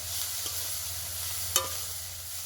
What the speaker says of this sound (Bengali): হালকা আছে নেড়ে চেড়ে গুড়টা একটু নারকেলের সঙ্গে ভালো করে মিশিয়ে নেব